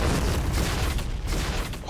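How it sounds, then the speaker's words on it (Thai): An explosion in an online shooter game using the MP9 gun rumbles as a dense, booming roar with a deep, rolling low end, filling the short clip at close range. "โดนระเบิดกันหมดเลย"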